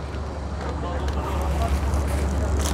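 Steady outdoor wind buffeting the microphone, a constant low roar and rumble that swells slightly toward the end, heard alone without speech.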